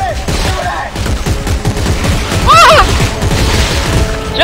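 Rapid bursts of gunfire in Dead Space 3 blast at a monster, loud and close, with booming impacts and a shrill creature screech partway through as players shout over the shooting.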